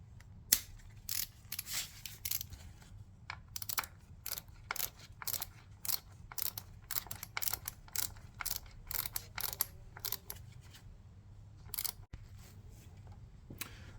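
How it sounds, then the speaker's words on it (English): A torque wrench clicks and ratchets in short, regular bursts while tightening a spark plug bolt on a Jaguar XK X150, close and crisp over a low background hum, with no talk. "while I've got the torque wrench, I might as well put the correct torque on the bolt"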